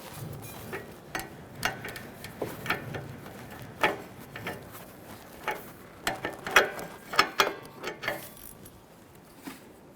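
Ratchet clicking in short bursts while tightening a downstream oxygen sensor with a crush washer on a 2007-2017 Jeep Patriot 2.4L four-cylinder, a series of close, crisp ticks spread through the clip with no talk.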